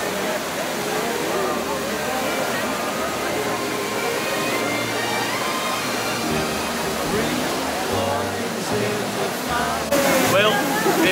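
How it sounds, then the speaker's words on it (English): Water from the Trevi Fountain in Rome rushes and splashes in a steady, loud wash under the murmur of a surrounding crowd, with people talking nearby. "we've made it back to the Trevi Fountain"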